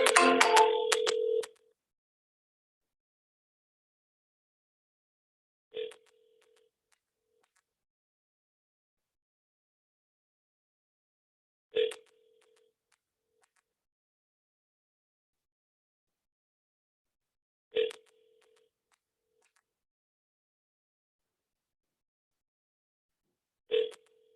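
Outgoing telephone call ringing on the line, a ringback tone repeating four times at slow, even intervals of roughly six seconds after a louder opening burst, with silence between rings.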